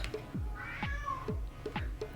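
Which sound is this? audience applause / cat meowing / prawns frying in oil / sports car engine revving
cat meowing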